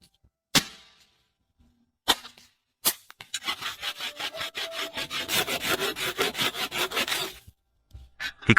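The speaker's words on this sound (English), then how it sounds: "He cut the wood to the right size" Wood logs being cut to size with a hand saw in a forest bushcraft setting: a few sharp knocks, then a run of rapid rhythmic rasping strokes, close and clear, ending with another knock.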